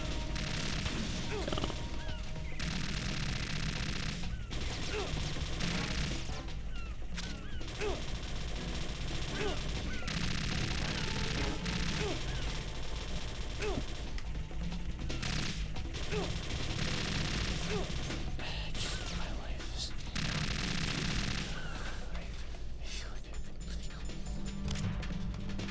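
Gunfire in Metal Gear Solid 2 Substance, dense bursts of shots crackling almost continuously over game music and effects, with a voice speaking over parts of it.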